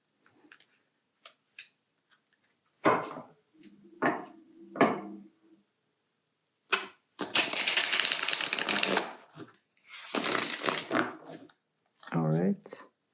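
Tarot cards being reshuffled by hand at close range, giving several quick riffling and rustling bursts separated by pauses, with a few light taps and brief talk near the end.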